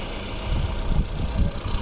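A 2011 Hyundai Santro Xing GL Plus, an LPG and petrol car, idles steadily nearby with a low, even engine rumble and faint pulsing throbs.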